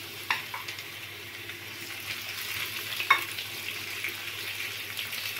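Squid cooks in a pan with garlic and salt, giving a quiet, steady sizzle and light frying crackle with a few small pops and stirring clicks, no one speaking.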